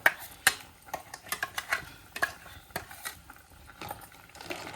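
Ground masala paste being stirred into crab curry over a wood-fired stove, heard as a string of sharp scraping clicks and taps of spoon against pot, irregular and close, with no talk.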